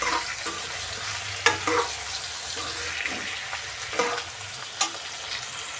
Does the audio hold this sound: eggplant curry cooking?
yes